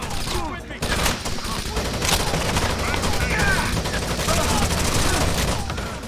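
Light machine gun fire in the video game Rainbow Six: Vegas 2, sustained rapid bursts of loud gunfire with overlapping shots and echoing booms, continuous and dense throughout.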